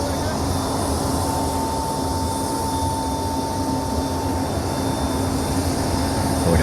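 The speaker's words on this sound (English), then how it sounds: "Look at that C-17." A Boeing C-17 military transport aircraft passes overhead, its engines producing a loud, steady, broadband roar with a constant hum that holds unbroken throughout.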